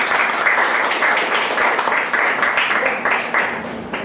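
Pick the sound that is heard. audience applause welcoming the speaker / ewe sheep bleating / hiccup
audience applause welcoming the speaker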